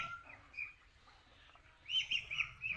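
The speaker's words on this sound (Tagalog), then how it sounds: "Yan po yung bagong halwa natin ng mga sisiw." Newly hatched chicks chirp faintly in a quiet space, with scattered thin peeps early on and a livelier cluster of high chirps near the end.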